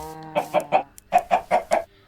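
Minecraft chickens cluck in a quick burst of short, bright calls, about eight in a row with a brief pause midway, close and clear.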